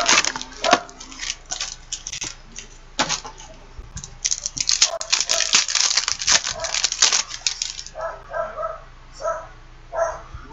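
A dog barks repeatedly in bursts nearby, the barks mixed with clattering and rustling noises, with quieter yelps toward the end.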